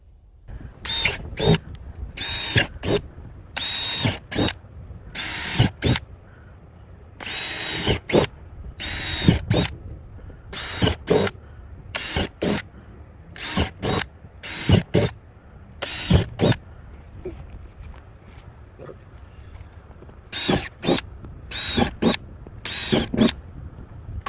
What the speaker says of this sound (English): let's let Tommy drill some holes in these tubs